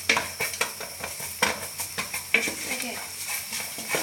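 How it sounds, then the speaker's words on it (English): Onions and spices sizzle in a pan for palak chicken, with steady frying hiss broken by repeated stirring clatter of a utensil against the pot, close up, and a brief word spoken. "Once the onions are combined with all of these spices, you can hear the sound. And oh my god, sizzling."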